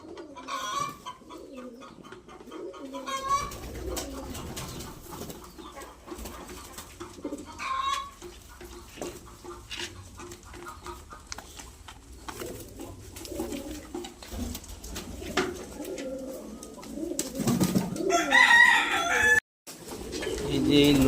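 Lotan pigeons coo repeatedly close by in Kolkata, soft throaty calls recurring over a background of scattered noise, with a rooster-like call and some talking mixed in.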